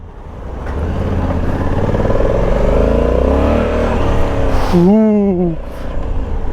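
A Honda Africa Twin 1100 DCT motorcycle engine revs loud and close, a sustained rising drone that holds and then eases off, with a brief exclamation from a voice near the end.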